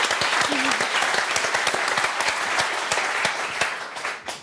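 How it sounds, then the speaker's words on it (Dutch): A television studio audience gives loud, continuous applause to a guest at a tribute, with close, dense clapping and a brief whoop partway through. "Mag ik een groot applaus voor haar man,"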